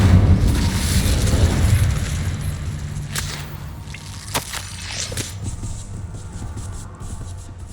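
An Incendio fire spell in the video game Hogwarts Legacy lands with a loud, deep booming roar that fades into a rumbling burn, followed by a few sharp cracks and pops.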